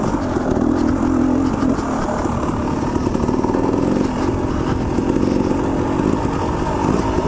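A KTM 300 XCW two-stroke enduro motorcycle ridden off-road in spring, its engine a loud, continuous buzzing drone with rapid throttle blips and a clattering edge throughout.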